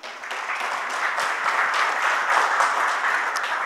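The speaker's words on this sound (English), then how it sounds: "Let's give them all a huge round of applause." An audience applauds steadily, a dense wash of clapping hands that holds at an even level for a few seconds.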